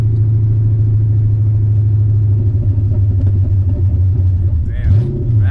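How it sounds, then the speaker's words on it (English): A VH45-swapped Nissan 300ZX idles and revs loudly up close with a steady deep engine drone and rumble, swelling into a throttle blip near the end. "Damn, backfired like crazy."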